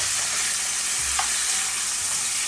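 Rolls of beef braciole brown in a hot pan, giving a steady, close, fairly loud sizzle with a soft continuous hiss and no talking.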